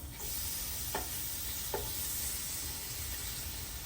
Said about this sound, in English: Take the other slice. Slide it on there. Slide it on there. Give it a flip.